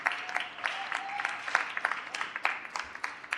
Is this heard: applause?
yes